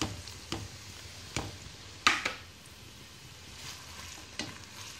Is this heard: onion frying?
yes